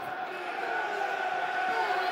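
Football crowd at Millwall's stadium, the Den, during a match against Leicester City: a steady, moderately distant murmur of many voices with a faint chant-like tone, unbroken throughout.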